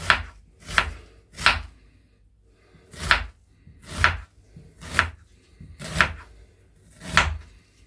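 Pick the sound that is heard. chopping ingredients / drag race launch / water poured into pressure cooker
chopping ingredients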